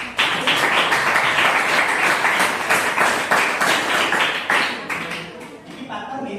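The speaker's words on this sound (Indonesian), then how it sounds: "tidak ada tepuk tangan untuk Saskia dulu" A group at an academic coaching session claps in a quick, steady rhythm, the sharp hand claps close and fairly loud before thinning out toward the end, with voices faintly underneath.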